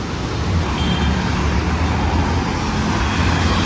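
A car drives along the Mumbai-Goa highway, passing beneath a bridge, with a steady broadband roar of engine and road noise mixed with surrounding traffic that stays loud and even throughout, and no one speaking.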